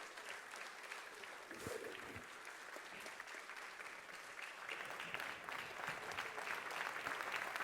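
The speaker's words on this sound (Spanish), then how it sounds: "quiero pedir un fuerte aplauso" Lawmakers in a National Assembly session break into sustained applause, a dense crowd of clapping hands that is faint and distant but builds slightly toward the end.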